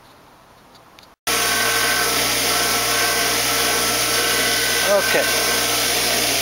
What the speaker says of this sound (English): start it after I've started the grinder